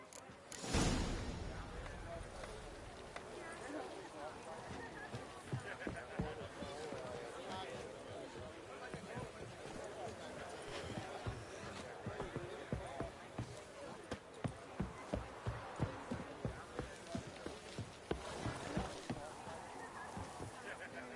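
Horse hooves clip-clop steadily in the Witcher 3 video game, a rapid regular beat of hoof strikes that runs throughout under game music and ambience.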